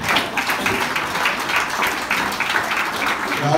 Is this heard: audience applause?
yes